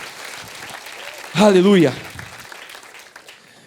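A church congregation claps during a service, a steady patter of applause that is briefly masked by a loud sung or shouted exclamation in the middle before continuing and fading.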